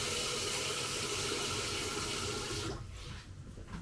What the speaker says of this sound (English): So, I'm not going to fill my pot with water.